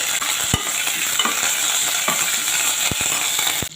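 Onions and curry leaves frying in oil in a pan, cooked with garlic for a dried fish dish, give a steady close hiss broken by sharp clicks of a spatula scraping and stirring.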